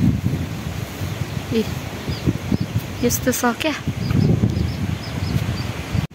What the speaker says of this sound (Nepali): यता चाहिँ ओपर धेरै हावा चलिरहेछ